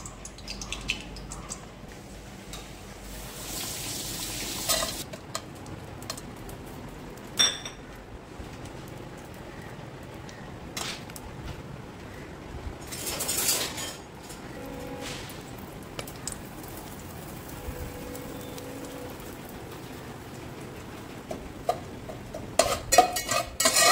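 Marinated vegetables frying in hot oil in a kadai while being stirred, with a steady sizzle under scraping and clinking of a spoon against the pan, close and continuous, no talking.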